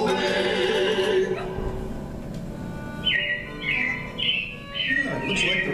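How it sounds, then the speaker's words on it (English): Animatronic robins chirp in Disney's Carousel of Progress at the Magic Kingdom, a series of short, bright bird calls in the second half, following music with singing. "it looks like the Robins are getting ready to celebrate Valentine's Day today"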